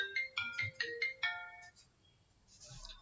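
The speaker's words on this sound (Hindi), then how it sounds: "कॉल आ रहा है आपका" A mobile phone rings for an incoming call with a melodic ringtone of repeating bright tones in short bursts, fairly quiet in a classroom setting, fading into low room noise.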